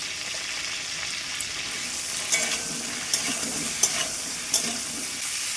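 Something frying in a pan during home Bengali cooking with salt and turmeric, a steady soft hiss running throughout, broken by a few brief clinks or stirring taps, with no talking.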